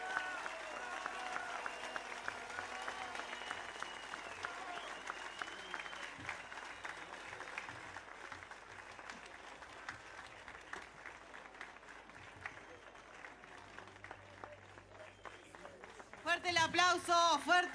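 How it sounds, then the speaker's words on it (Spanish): Loud, sustained applause from a large crowd at a Frente Amplio political rally in Uruguay, with a continuous wash of clapping and an announcer's amplified voice over it, swelling into a louder burst near the end. "Fuerte el aplauso para el presidente del Frente Amplio."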